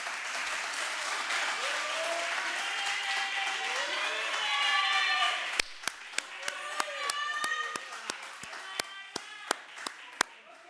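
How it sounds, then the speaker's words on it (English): An audience at a university campus student council event in Bloemfontein breaks into full applause mixed with cheering voices, then thins to scattered, sharp individual claps. "A round of applause, colleagues."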